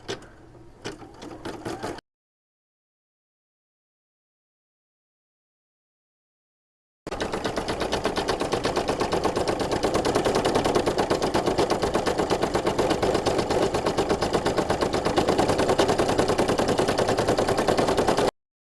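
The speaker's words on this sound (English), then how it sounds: "I put down my presser foot and hit go. And it should start stitching out the K first." A Brother PE 770 or PE 800 embroidery machine stitches out a design, loud rapid mechanical rattling that starts after a brief silence and continues steadily to the end.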